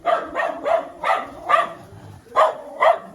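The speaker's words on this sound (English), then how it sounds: "Here's the dog I was talking about yesterday" A dog barks seven times in short, sharp, fairly evenly spaced bursts, close and loud, with nothing else over it.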